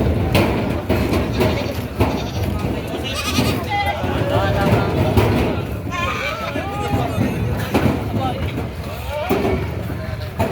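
Goats bleat repeatedly at a livestock market where cattle, goats and carabao are sold. Several wavering calls rise over constant crowd chatter and nearby talking.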